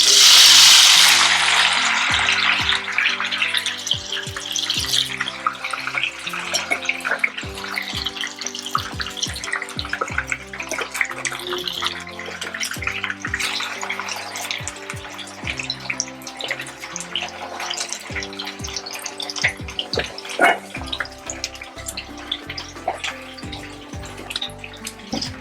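Sweet potato for vegetable spring rolls fries in hot cooking oil, giving a loud, continuous sizzle and crackle with scattered pops that starts strong and stays steady throughout.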